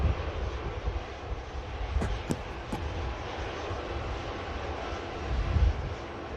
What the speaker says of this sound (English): Lufthansa Airbus A320 heading out to Munich.